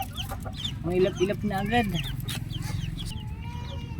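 Red junglefowl (labuyo) chicks cluck and peep in a home yard, several short, bright calls bunching in the middle, close by, with a person talking over them.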